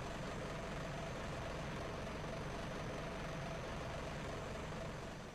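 A Hino truck's diesel engine idles steadily, a constant low rumble that stays even throughout with no talking.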